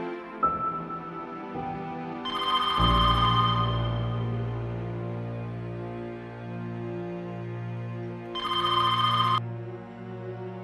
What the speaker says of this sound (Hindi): जब नहीं उठा रहा तो बार बार क्यों फोन कर रही हो?